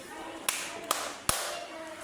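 Children in a classroom word game clap out the syllables of a word: three sharp, separate claps spaced roughly evenly, with a faint voice underneath.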